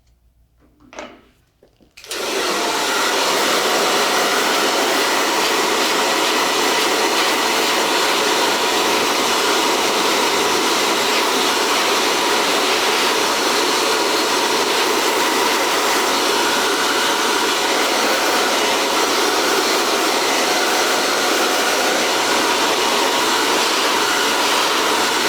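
Hair dryer blowing hair dry in a salon, switched on after a brief quiet moment and then running as a loud, steady, close whoosh without a break.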